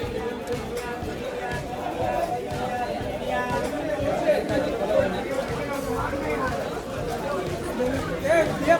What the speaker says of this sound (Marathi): गर्दी गर्दी गर्दी गर्दी गर्दी गर्दी